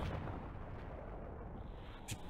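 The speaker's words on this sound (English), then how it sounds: "Explosions." Explosions in the video game Resident Evil 2 during a Leon B shotgun-only speedrun: a deep, continuous rumbling boom, fairly quiet, with a brief sharper pop near the end.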